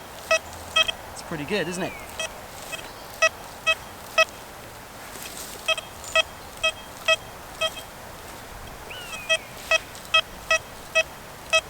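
A metal detector on its Deep HC program sounds short, sharp repeated beeps over an 1836 silver sixpence, clustered in quick bursts, while someone speaks briefly near the start.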